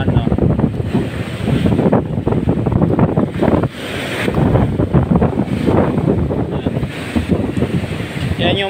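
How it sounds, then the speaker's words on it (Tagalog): Strong sea waves surge against a seawall along a flooded boulevard, a loud, churning roar mixed with heavy wind buffeting, with crashing bursts every few seconds and someone talking faintly underneath. "Malakas yung alon."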